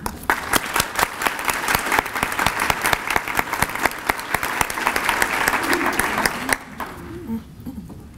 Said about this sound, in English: A big round of applause for all of our elementary teacher of the years.